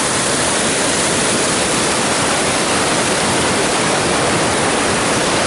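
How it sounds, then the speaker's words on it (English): Waterfall along the Wonderland Trail on Mount Rainier, a loud unbroken roar of falling water filling the whole stretch, close and steady with no voices. "This is our waterfall."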